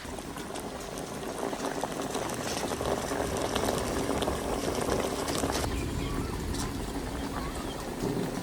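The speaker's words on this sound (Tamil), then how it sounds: "அப்படியே கொதித்து தண்ணி விட ஆரம்பிச்சிருச்சு" Steady bubbling and sizzling of rabbit meat simmering in a pot in its own released juices, a dense continuous crackle with no voices.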